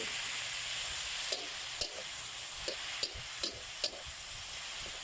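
June beetles stir-fried in a pan with oil, green-cap sauce, a little MSG, sesame oil and ground pepper sizzle steadily up close, while about six sharp spatula scrapes cut through at uneven intervals.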